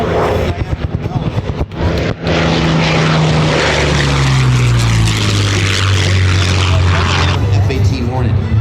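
Grumman F8F Bearcat warbird with a 12-foot propeller at an airshow, its loud piston engine droning steadily and shifting pitch as it passes, with crowd chatter beneath.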